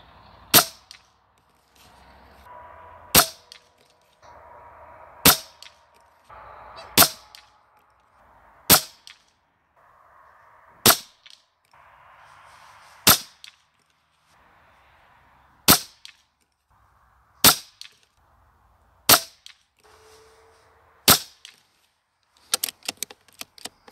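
An air rifle fires SPOTON slugs at a 50 m target, sharp crisp cracks spaced a few seconds apart, about a dozen shots, with faint handling noises between and a quick cluster of clicks at the end.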